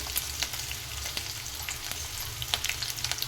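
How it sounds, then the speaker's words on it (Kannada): Chopped onion and green chillies fry in oil with cloves in a pan, giving a continuous close sizzle with small crackling pops and occasional stirring scrapes, with no talking. "ಸ್ವಲ್ಪ ಈ ಥರ ಫ್ರೈ ಮಾಡಬೇಕು ಸ್ವಲ್ಪ ಹಸಿ ವಾಸನೆ ಹೋಗೋವರೆಗೂ"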